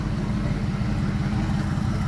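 An LM7 5.3L LS V8 with an LS1 cam idles steadily, its low exhaust burble rumbling close and even with no talk over it.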